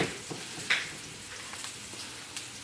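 Finely chopped half onion sizzles in a pan with garlic already fried, a soft steady hiss with a couple of brief stirring clicks, close and low in level.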